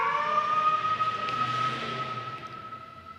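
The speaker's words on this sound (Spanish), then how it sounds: "Vamos a dejar que pase la ambulancia." An ambulance siren wails steadily as it passes, loud at first and then slowly fading into the distance, with no talk over it.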